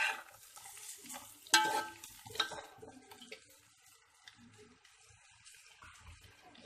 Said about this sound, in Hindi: बंद गोभी को भी इसके साथ मिक्स कर लिया।